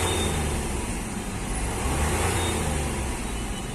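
A Hyundai Xcent diesel engine, being checked for knocking and misfiring, is revved up, producing a loud, continuous, close drone that swells slightly midway and holds steady without talk.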